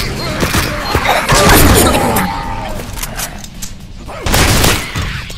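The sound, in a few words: grenade explosion in video game Tubbyland Outbreak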